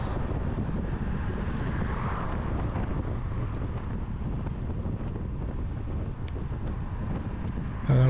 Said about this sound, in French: Vent de face.